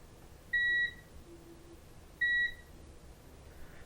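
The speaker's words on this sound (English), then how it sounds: "So we should only get a beep on one side" A multimeter in continuity mode gives two separate, steady electronic beeps, each under half a second long, about a second and a half apart, against a quiet background while probing a faulty Nintendo Switch board.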